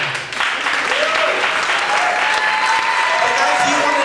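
A room full of guests applauds at a memorial celebration of life, steady, loud clapping sustained throughout while a voice speaks faintly over it.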